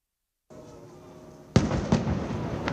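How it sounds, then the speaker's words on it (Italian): A cannon salute is fired from an Italian Navy ship in sunny Venice, heard as a sharp, loud boom that breaks over a steady background, followed by a further report and a rolling, echoing rumble. "21 colpi di cannone sparati dalla nave della Marina Militare"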